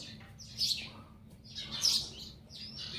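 Several short bright bird chirps ring out in bursts, fairly faint over a low steady background hum, with a pigeon perched nearby and no talking.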